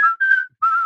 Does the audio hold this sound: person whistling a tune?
yes